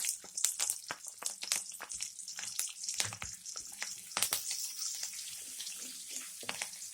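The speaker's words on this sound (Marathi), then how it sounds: "आता याच्यामध्ये मी कांदा आणि कढीपत्ता टाकून देते." Onion and curry leaves sputtering in hot oil in a wok for a Malvani-style small shark fish curry, a dense steady crackle of sizzling with sharp pops scattered throughout, no voices.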